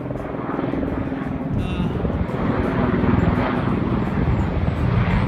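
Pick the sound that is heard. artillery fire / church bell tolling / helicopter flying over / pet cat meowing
helicopter flying over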